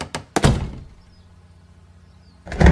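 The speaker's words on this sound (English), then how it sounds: "She jumped when there was a loud thud on the other side, like someone had run into her door." A loud, heavy thud strikes a door, with a couple of sharp impacts close by, a brief quiet stretch, then another burst of banging against the wood.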